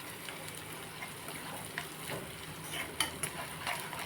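Vada batter fries in hot oil, giving a faint, steady sizzle with small bubbling crackles and occasional stirring, close by with no talk.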